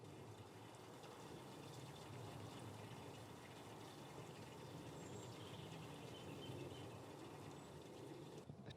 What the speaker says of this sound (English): There's a bit of trickling water from their water trough.